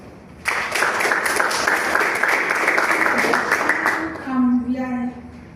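Members at a Toastmasters meeting applaud a speaker with a loud burst of clapping for a few seconds, which fades as a voice begins speaking near the end.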